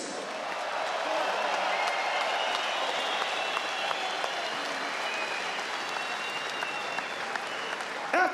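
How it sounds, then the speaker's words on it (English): An arena crowd at a heavyweight boxing match between Joseph Parker and Andy Ruiz Jr applauds both fighters after twelve rounds, a long, even roar of clapping with scattered cheers throughout. "can we please have a round of applause for these 2 fighters?"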